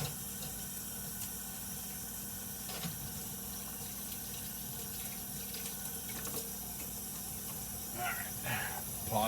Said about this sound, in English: I use dish soap to wash my hands